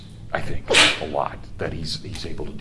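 One quick sneeze from a seminar participant, cutting sharply through a man's ongoing lecture.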